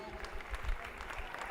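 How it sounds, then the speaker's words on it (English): An audience applauds swimmers at the Monster Splash Meet 2023 swim meet: steady, dense clapping that holds at an even level for the whole stretch, with a faint murmur of voices mixed in. "And we will cheer all these swimmers."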